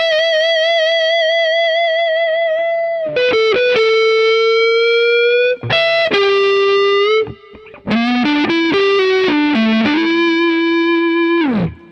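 An electric guitar runs through a Mooer preamp on its Regal Tone Lead channel, giving a smooth, distorted lead tone with long sustained notes, vibrato and slides. The instrument plays loud and alone, and the phrases flow into each other with little pause.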